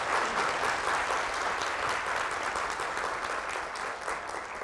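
An audience at a corporate job-development program results-sharing meeting gives a steady, full round of applause for an arriving guest, sustained at an even level throughout.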